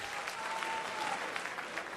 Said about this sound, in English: Clap your hands if you got dogs